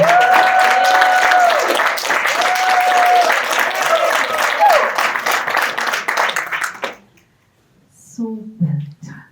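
Graduation ceremony audience applauding with loud continuous clapping and whistles for about seven seconds, then breaking off into near silence before a few murmured voices.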